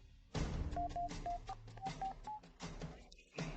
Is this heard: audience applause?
no